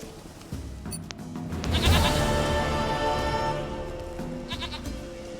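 A goat bleats in The Witcher 3, a long, loud, wavering cry that swells near two seconds and trails off, over a steady low game ambience, with a short second bleat near the end.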